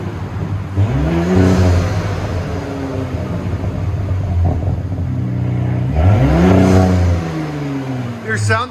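A 2019 Audi SQ5 with dual exhaust and no muffler revs up twice, each rising roar sweeping upward and falling back between rather steady idle, loud and close.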